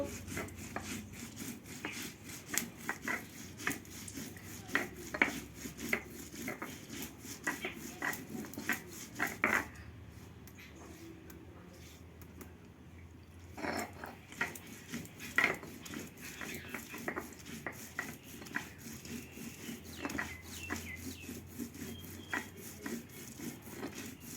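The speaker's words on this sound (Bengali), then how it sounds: "এর সঙ্গেই বেটে নিচ্ছি এলাচ, দারুচিনি, লবঙ্গ।" Cardamom, cinnamon and cloves are ground by hand on a stone for crab curry, with steady rubbing and knocking strokes and irregular scraping bursts that keep coming, easing off briefly partway through.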